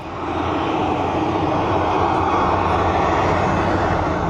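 Donald Campbell's speed record boat gives off a loud, steady, continuous engine roar as it accelerates, with no voices over it.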